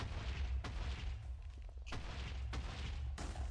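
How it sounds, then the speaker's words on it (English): Explosions in Minecraft go off as several muffled booms at uneven intervals. They sound fairly quiet and distant, with no talking. "there's enough time in between explosions for me to do all this"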